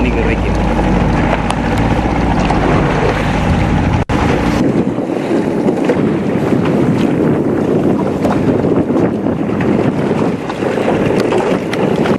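Fishing boat engine hum and wind buffeting out on open water at sea, a steady loud rumble with a brief knock partway through.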